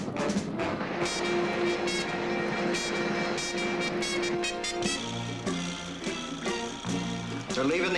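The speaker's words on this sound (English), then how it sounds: "Engines revving." Powerful engines rev and roar through the scene, loud and close, with surging pulses and sharp bursts layered over a dense rumble and dramatic background sound. Some talk is mixed underneath.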